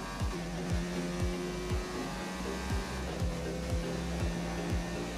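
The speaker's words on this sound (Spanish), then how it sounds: "el motor trabaja al máximo para recuperar la velocidad perdida por el giro" A Formula 1 car at full throttle at Silverstone during the 2019 British Grand Prix, its high-pitched engine screaming steadily with rapid upshifts that drop the pitch in regular steps, loud and close.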